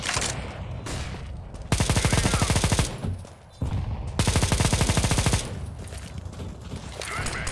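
Automatic gunfire in the game CS:GO, rapid bursts of rifle shots in two long loud volleys with shorter gaps of quieter game noise between them.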